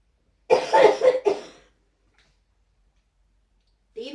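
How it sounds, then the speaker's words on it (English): A cough blamed on throat implants vibrating: a close, harsh burst of two or three coughs followed by silence, then the start of another cough at the very end. "The implants vibrating in my throat is what's making me cough."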